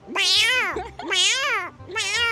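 A human voice imitates a house cat meowing for food, producing three drawn-out, rising-and-falling meows in a steady sequence, loud and close with no other sounds.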